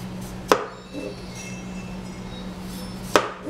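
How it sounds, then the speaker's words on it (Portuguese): A potato sliced thinly with a knife in a home kitchen: two sharp, close knife strikes on a cutting board a few seconds apart, over a quiet background hum. "Batata também, a gente vai cortar ela, vai ser bem fininho"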